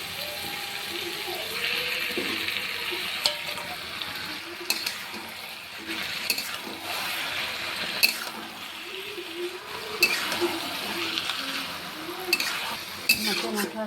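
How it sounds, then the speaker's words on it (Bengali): Ash gourd being stirred together with fried fish heads in a pan, with soft scraping and faint sizzling running steadily throughout, punctuated by a few sharper utensil clicks against the pan. "মাছের মাথার সাথে চাল কুমড়োটাকে আমি ভালো করে মিশিয়ে নিয়েছি।"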